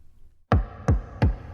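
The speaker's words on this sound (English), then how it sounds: "there's a knock on the door." Three firm knocks on a door, evenly spaced and close, each a sharp, heavy thud with a short decay, out of near silence.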